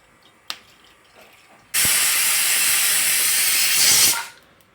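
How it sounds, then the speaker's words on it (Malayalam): A pressure cooker whistle: a loud, steady hiss of escaping steam bursts in suddenly, holds for about two and a half seconds, then cuts off, with a faint click just before. "കുക്കറിന്റെ ഫിസിൽ കാരണേ കേട്ടില്ല"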